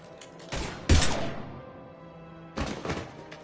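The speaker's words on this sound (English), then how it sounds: "Now open fire!" Gunfire in Mass Effect 3 comes as a few heavy, thudding bursts, a sharp loud impact near the start followed by a ringing tail, then another short burst of shots after a quiet gap.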